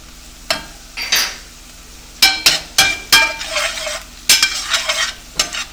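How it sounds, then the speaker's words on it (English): Garlic and thyme stirred into onions cooking in a pan, with a steady sizzle under repeated spoon scrapes and clinks against the pan, close and fairly loud. "go ahead and add in this garlic and let that cook for just a couple of minutes"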